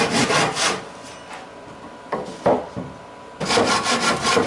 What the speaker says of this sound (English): I'm going to go ahead and cut off my 2x4